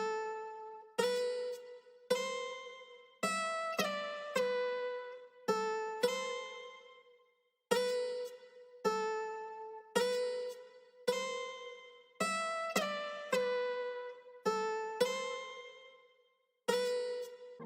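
Reed guitar playing a simple, repetitive pattern of plucked notes through a compressor, clean and moderately quiet, each note ringing and decaying in a steady rhythm with short pauses, no voices.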